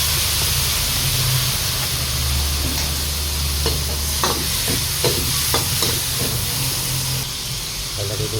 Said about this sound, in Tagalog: Lalagay tayo ng soy sauce.